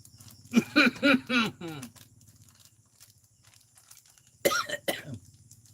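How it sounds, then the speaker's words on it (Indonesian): An acted cough: two bursts of forced, hacking coughs in quick succession, a pause with faint background, then another short cluster of coughs, close and fairly loud. "Begitu kira-kira batuknya"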